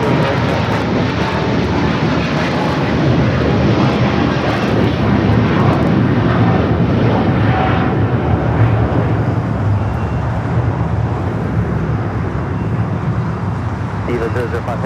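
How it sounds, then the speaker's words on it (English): An EVA Air Boeing 777-300ER takes off from Los Angeles International Airport bound for Taipei, its engines producing a loud, continuous roar that gradually thins toward the end, while people talk over it. "Eva Air Flight 5 taking off to Taipei on the 777-300 ER"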